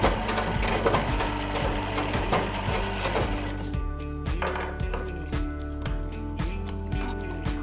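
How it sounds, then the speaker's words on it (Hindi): A sewing machine stitches folded cloth for a face mask, running close and loud with a rapid mechanical needle rhythm that keeps going, then eases into slower, more distinct ticking bursts. "मैंने इसे मोड़ लिया है और अब इसको सिल दूंगी।"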